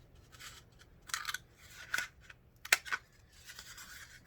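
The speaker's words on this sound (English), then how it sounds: "we can cut them down this direction" Scissors snip through cardboard toilet paper tubes, cutting lengthwise in a handful of quiet, close crunching cuts separated by short pauses.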